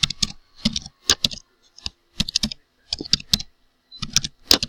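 Keys on a computer keyboard click in short irregular bursts with brief pauses between them, close and fairly crisp, no voices.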